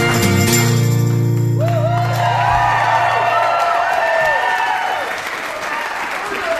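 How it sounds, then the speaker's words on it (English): Crowd applause with cheers and whoops at the close of a live Celtic folk song, sung to a pinion band refrain, as the music's sustained tones fade. Dense clapping swells loudly and carries on alone for several seconds. "That was good clapping."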